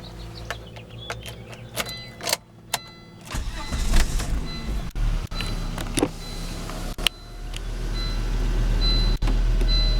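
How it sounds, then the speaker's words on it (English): A 2000 Volvo V70 is started up: sharp clicks and a brief cranking burst give way to a steady low engine rumble that builds and settles into a close, continuous idle. "Let me first just start up the car."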